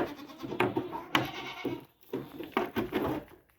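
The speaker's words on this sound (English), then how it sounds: "And that's what I feed my goat herd." Goats from a small herd of does on an off-grid homestead bleat several times in a row, close and clear, with short gaps between the calls.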